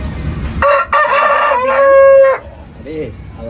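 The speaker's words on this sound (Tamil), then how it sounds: "சேவல் இதுதான் இருக்குது." A loud, close rooster crow, one long harsh cock-a-doodle-doo, followed by a few softer clucks.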